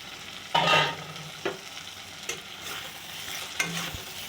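Pre-fried potatoes stirred and sautéed in spiced oil for a Bengali prawn curry, a soft continuous sizzle broken by four spatula scrapes against the pan, the first the loudest, close by with no talking.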